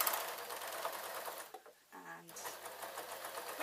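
A sewing machine stitches t-shirt sleeves in a fast, steady whirring run that briefly slows and pauses before picking up again, close and continuous.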